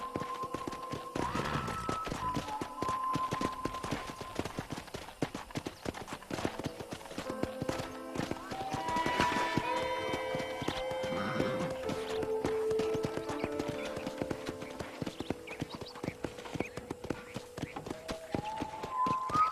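Steady clip-clop of horse hooves at a trot in Red Dead Redemption on Xbox 360, with an occasional whinny, layered over a continuous game music backdrop.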